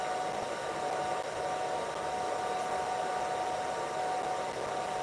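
Laser cutter cutting metal clips in a small workshop, a steady hiss of air assist and fan noise with a thin constant tone, continuous and moderately quiet, no talking.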